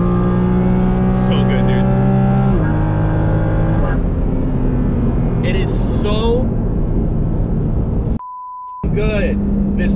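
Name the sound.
Porsche GT4 RS car engine driving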